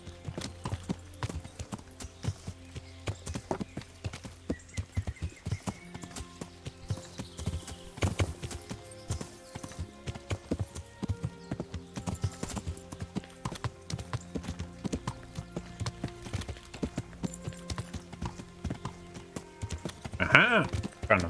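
Steady clip-clop of horse hooves during a ride in Kingdom Come: Deliverance, rhythmic and continuous across the whole stretch, with a brief brighter burst near the end.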